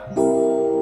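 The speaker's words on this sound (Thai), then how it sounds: "เสียงเปียโนไฟฟ้า" A single sustained electric piano note or chord from a keyboard rings out after a soft lead-in, holding steady with bright harmonics, close and fairly loud.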